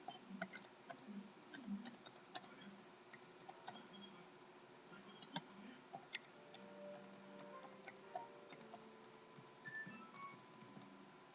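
Steady typing on a computer keyboard while working in the Paint program, quiet, irregular clicks and taps running throughout, with no speech.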